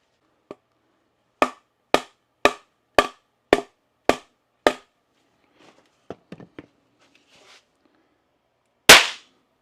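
Primed cartridge cases going off one after another, a string of eight sharp cracks at an even pace, then scattered faint ticks and a final louder burst at the end.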